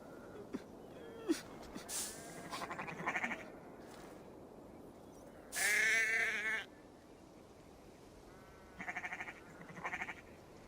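Sheep bleat in Assassin's Creed Valhalla in a few separate bursts, one loud drawn-out cry in the middle and softer ones after, over a quiet background.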